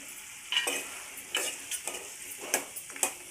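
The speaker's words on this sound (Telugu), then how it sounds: "ఇప్పుడు వేసి మంచిగా" A spoon stirs veg manchurian sauce with chilli sauce, vinegar and soy sauce as it fries in a pan, giving several separate scraping strokes over a soft, steady sizzle, close and fairly quiet.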